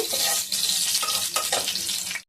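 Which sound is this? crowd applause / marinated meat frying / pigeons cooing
marinated meat frying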